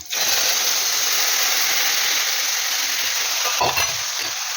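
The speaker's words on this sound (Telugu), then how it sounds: "మనము రసం తీసి పెట్టుకున్న చింతపండు పులుసు ఉంది కదా దాన్ని ఇందులో వేసుకోవాలి" Tamarind juice poured into a hot pan for tamarind pulihora sets off a loud, steady sizzle and bubbling hiss that fills the whole moment, with a short clatter of stirring near the end.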